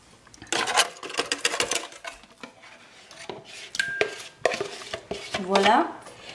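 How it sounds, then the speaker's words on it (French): Yogurt being whisked in a bowl for a chicken biryani marinade, with irregular clinking and scraping strokes of utensil against dish, close and uneven. "Et je vais fouetter ça pour l'homogénéiser."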